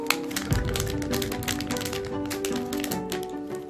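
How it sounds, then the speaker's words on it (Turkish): Crinkly plastic and rapid tapping as an LOL Surprise OMG doll package is torn open, a steady busy rustle running close throughout with no talking. "Şimdi biz de bu paketi açalım."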